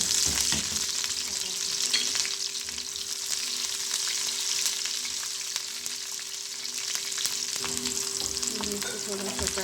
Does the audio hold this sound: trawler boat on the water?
no